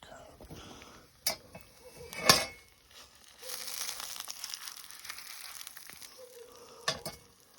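Sausage and duck eggs fry over a campfire with a soft, steady sizzle, punctuated by a few sharp clinks and scrapes of a utensil.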